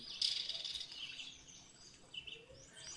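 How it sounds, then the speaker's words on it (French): Birds sing outdoors, faint high chirps and twitters heard from inside a room over a soft hiss of background noise. "les oiseaux, à l'extérieur, je les entends"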